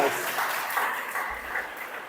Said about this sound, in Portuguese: Vocês podem dar um aplauso ao Senhor?